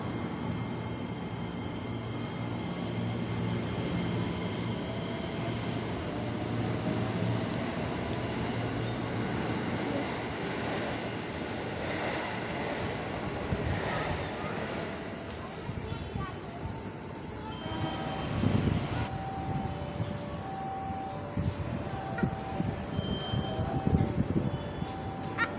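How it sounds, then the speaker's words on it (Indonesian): A KRL commuter electric train rolls into a station with a low rumble and rattle of wheels, brakes squealing near the end, while an announcement and voices carry faintly over the platform noise. "Masuk KRL."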